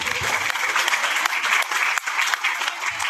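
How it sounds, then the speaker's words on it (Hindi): A crowd at an Independence Day flag-hoisting event applauds loudly and steadily, many hands clapping together in a dense, continuous roar that holds for the whole stretch. "तो इन लोगों के लिए भी जोरदार तालियां होनी चाहिए।"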